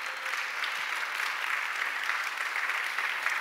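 A church congregation applauds steadily and evenly for the whole stretch, a dense wash of many hands clapping together at moderate loudness with no voices standing out.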